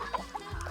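A few short, soft clucks from a chicken eating feed nearby, brief and quiet over low background noise.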